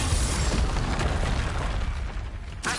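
Explosion from the Confringo spell in a PS5 video game, a loud rumbling blast with a dense low boom that slowly decays, followed by a sharp crack at the very end.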